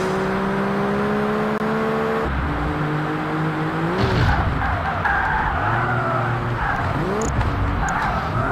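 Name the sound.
car sliding and skidding in Project Gotham Racing video game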